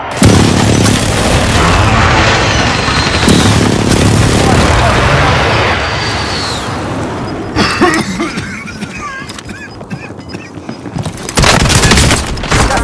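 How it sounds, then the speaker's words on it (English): Friendly precision airstrike explosions in Call of Duty: Modern Warfare, heavy booms and crashing blasts rolling close by amid battle noise, with voices talking throughout. "Be advised, friendly precision airstrike inbound."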